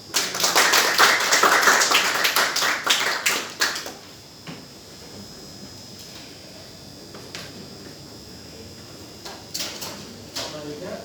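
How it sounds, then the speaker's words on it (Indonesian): A classroom group claps for a student named Anies during a final practical exam on diagnosing and repairing an electric iron. Brisk, dense clapping fills the first four seconds, then fades to a quiet room with a few scattered taps. "Tepuk tangan buat Anies"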